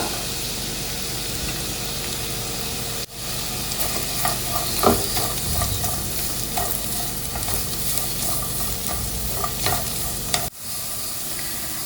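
Two long-sliced carrots being stir-fried for restaurant-style chicken fried rice: a steady sizzle and hiss in a hot pan with occasional scraping stirs, close and continuous, breaking briefly as the carrots drop in.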